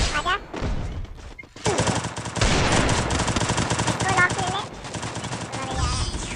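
Rapid bursts of gunfire from the battle royale game Garena Free Fire, dense and loud almost without a break, with voices talking over the shooting.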